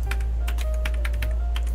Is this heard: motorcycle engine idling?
no